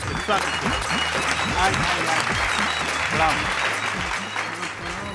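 At a Hindi kavi sammelan poetry gathering, an audience gives a poet a loud, sustained round of applause while a voice keeps talking over it.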